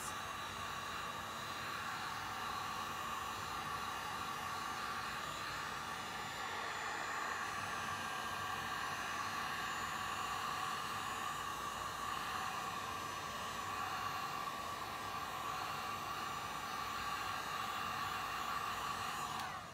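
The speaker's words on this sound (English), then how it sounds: "I'm gonna use the heat gun, so bear with me. I'm just gonna warm up the resin" A heat gun warms resin for fluid art, producing a faint, steady blowing hiss with a thin whine, even and uninterrupted from start to finish.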